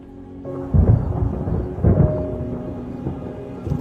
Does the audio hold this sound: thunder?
yes